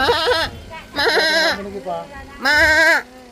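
Crossbred goats and merino sheep on a farm bleat three times, loud and close, with wavering, quavering calls separated by short pauses.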